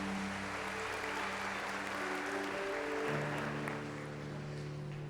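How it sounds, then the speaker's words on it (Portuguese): Congregation in church giving strong applause for the Lord, a broad wash of clapping under sustained organ or keyboard tones that shift in pitch, steady throughout and easing slightly at the close. "damos uma salva de palmas forte para o Senhor."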